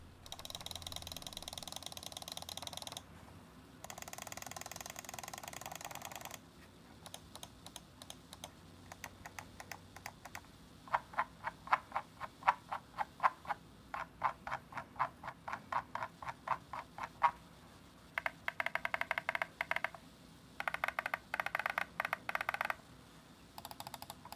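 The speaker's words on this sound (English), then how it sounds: "here's a listen to the clicks" Button clicks from a Nixeus Revel computer mouse come in quick crisp bursts and steady rapid runs, close up and fairly quiet, with brief pauses between groups and no voices.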